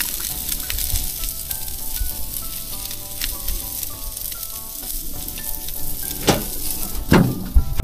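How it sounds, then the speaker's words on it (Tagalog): Chicken frying in a pan with a steady, loud sizzle and crackle that runs throughout, with occasional clinks of a utensil against the pan near the end. "Mabilis lang maluto yung chicken"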